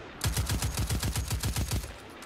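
Sniper rifle fire in the video game Destiny 2, heard as a quick even run of about a dozen sharp bursts over two seconds, moderately loud and without talk.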